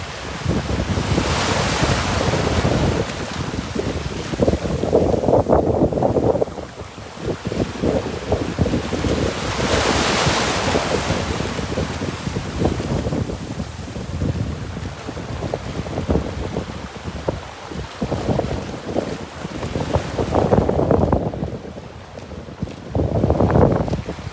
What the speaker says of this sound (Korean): 파도를 좀 보시겠습니다